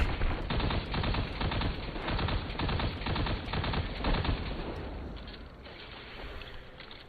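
Rapid, dense volley of hand cannon gunfire in the video game Destiny 2, sharp repeated shots piling into a continuous loud barrage for about five seconds before tapering off into quieter scattered bursts.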